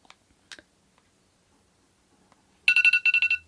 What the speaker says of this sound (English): That's the fun noise that'll show that it's ended.